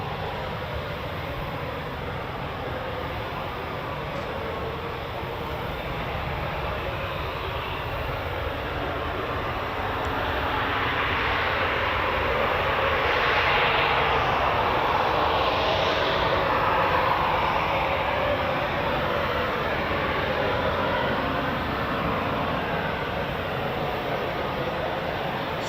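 Eurofighter Typhoon FGR4 fighter jet taking off at RAF Coningsby, a loud continuous engine roar that swells toward the middle and holds steady, heard at a distance alone.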